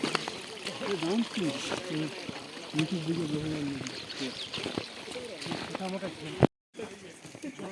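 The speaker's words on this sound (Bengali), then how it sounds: "এটা ঝর্ণা কিন্তু, হ্যাঁ" A mountain stream rushes over rocks beside a snowy trail on the Kedarkantha trek, a steady watery gush heard close, while people talk over it throughout and a brief bump cuts in near the end.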